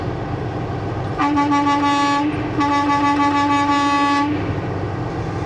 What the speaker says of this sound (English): So why does this horn sound different?